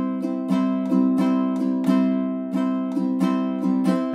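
Ukulele strummed in a steady down-up pattern, bright ringing chords with crisp strokes repeating evenly at a moderate pace, close and clear with no voice.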